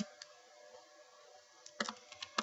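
Keys clack on a computer keyboard as text goes into a spreadsheet, a few quick taps early on and then a denser burst of typing near the end, close and fairly quiet with no voice over it.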